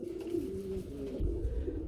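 Raj Gola, Lahori and racer pigeons kept for sale, cooing steadily in low, throaty, rolling calls, close by and alone without talk.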